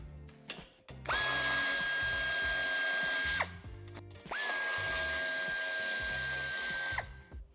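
Power tool undoing screws on the crossmember of a 2018–2023 Volkswagen Touareg III during tow-hitch fitting, two long, loud, steady whirring bursts with ratcheting clicks between them, close up.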